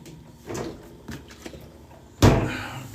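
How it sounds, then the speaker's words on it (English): A small mini fridge door opens with a soft thump and a sharp, close clunk near the end, after a few quieter handling knocks in an indoor room. "Let me get some water out of my little mini fridge here."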